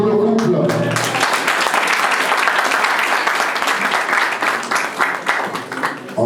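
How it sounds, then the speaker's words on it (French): A room full of people at a civil wedding claps in sustained applause for the couple, dense and fairly close, after a brief spoken voice at the start, gradually thinning toward the end. "on applaudit pour le couple"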